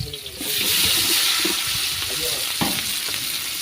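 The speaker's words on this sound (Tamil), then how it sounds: "அடுப்பு காஞ்சிச்சு, எண்ணெய் ஊத்திக்கலாம்" Cooking oil sizzling and crackling in a hot pan on a stove while making egg semiya, a loud, steady hiss that swells in after a moment with sharp pops and stirring clatter near the mic.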